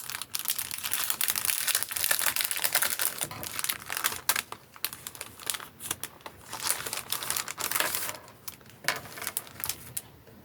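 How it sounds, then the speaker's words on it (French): A paper envelope pouch of friendship mail is torn open and handled up close, with loud, continuous crinkling, rustling and tearing of paper over ten seconds and no talking. "Ensuite, je vais ouvrir cette pochette."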